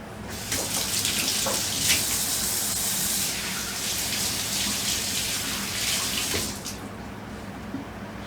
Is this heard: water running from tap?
yes